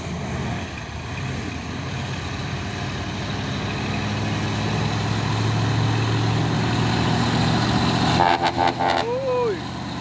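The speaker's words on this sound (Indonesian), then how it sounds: "Masuk lagi truk trailer membawa apa nih?" A trailer truck carrying a shipping container on a Trans-Sumatra road, its engine droning steadily nearby, then a short burst of horn toots near the end, with someone talking over it.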